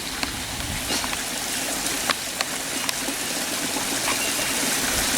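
Creek water flows steadily outdoors at a native-plant landcare site, a constant broadband rush and trickle with faint occasional splashes, no voices.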